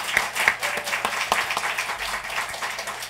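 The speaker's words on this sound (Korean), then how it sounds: "여러분 맛있는 식사를 준비해 주시는 우리 분들께 감사의 박수 드립시다." Church congregation clapping in thanks to the meal preparers, a scattered round of individual claps with some sharp distinct hits, moderately loud in a hall.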